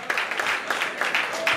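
A church congregation clapping for God in quick rhythmic bursts, a steady run of handclaps filling the space throughout.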